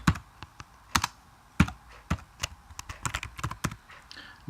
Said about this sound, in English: Move on to the next line and type in endif